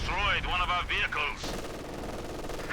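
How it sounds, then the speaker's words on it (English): A machine gun fires a long burst in the World War II strategy game Company of Heroes 2, the rapid rattling shots loud and close and in several pulses, then giving way to a steady rumble of battle. "running into the machine gun, taking a big burst"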